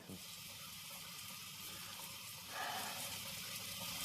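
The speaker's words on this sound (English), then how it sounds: "I heard the shower running." A shower runs in the Big Brother Australia house, giving a steady, even hiss of spraying water that swells slightly louder partway through, with no voices.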